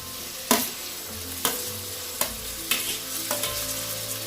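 Tomatoes sizzle and fry in a pan as a chicken biryani base is cooked, with a steady crackle broken by about six sharp stirring clanks of a utensil against the pan.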